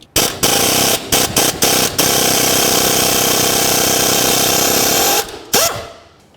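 A pneumatic impact wrench hammers at exhaust manifold bolts on a 2007 Chevy Silverado Classic, loud and close, with a few short stuttering bursts before one long continuous rattling run, then a brief final burst.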